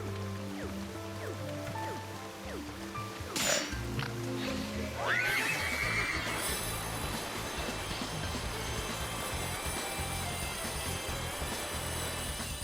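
A horse whinnies in the video game Spectrobes Origins, a single bright neigh midway over steady game music, followed by continuous rhythmic hoofbeat-like galloping texture that runs to the end at moderate volume.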